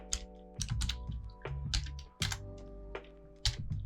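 Rapid bursts of clicking keystrokes on a computer keyboard while code is typed, close and crisp, with short pauses between runs of keys and no one speaking.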